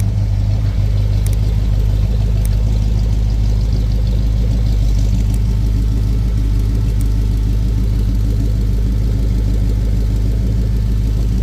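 A 1956 Ford F100 pickup with a 331 Hemi V8 sits running, its electric cooling fan whirring steadily over a deep engine rumble, loud and close with no voices.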